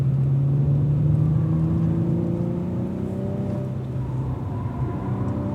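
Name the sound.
Cadillac V-Series car engine braking and accelerating on track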